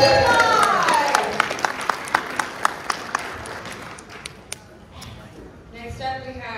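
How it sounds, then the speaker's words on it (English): An audience at a steampunk convention teapot racing event claps sparsely, with a few distinct loud claps over a low crowd murmur that fades toward the end. "A round of applause for Sweet Tea Pie."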